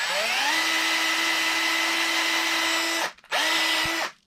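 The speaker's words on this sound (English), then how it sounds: "I have the primer pocket uniforming tool made by RCBS in my drill" An RCBS primer pocket uniforming tool spins in a power drill, cutting into new Lapua 6.5 PRC brass with a loud, close whine that ramps up, holds steady, briefly cuts out, returns and then winds down.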